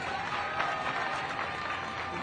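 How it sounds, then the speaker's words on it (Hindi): Crowd clapping for the MLA at a political rally in Om Vihar, a steady wash of applause from many hands at moderate distance, holding evenly throughout with faint voices mixed in. "एक बार ताली बजा दो अपने एमएलए के लिए सारे जने।"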